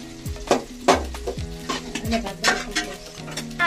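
Chicken fries with chili, salt, yogurt and masala, with a spoon repeatedly stirring and scraping the pot over a constant sizzle. Music plays underneath.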